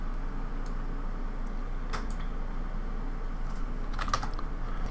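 Sparse, close clicks from a computer mouse and keyboard on a desk, a few isolated taps spaced over a few seconds above a constant low hum.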